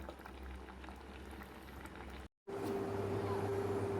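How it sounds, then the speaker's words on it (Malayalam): A pot of fish curry bubbles on the stove as its liquid cooks down, a low, continuous burbling simmer heard close, briefly cut by a moment of silence before resuming with a faint steady hum beneath. "കറി തിളച്ച് പാകമായി വെള്ളമൊക്കെ വറ്റി വരുന്നു"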